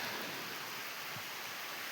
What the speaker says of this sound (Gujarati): જોઈ લ્યો વરસાદ ફૂલ ચાલુ થઈ ગયો